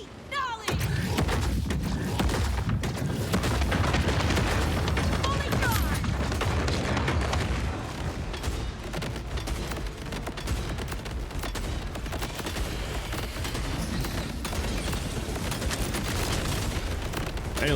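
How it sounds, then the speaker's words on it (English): Sustained weapon fire in the looter-shooter Borderlands 4 during a boss fight, dense continuous shooting mixed with booms and explosions throughout, with a voice talking over the din. "Hey, look, I get to keep shooting it"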